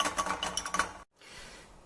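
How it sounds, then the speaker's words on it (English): A chopstick stirs salve in a double boiler, giving quick light clicks and taps against the container for about a second, then a brief silence and a low steady background hiss. "Just going to give that a stir with a little chopstick"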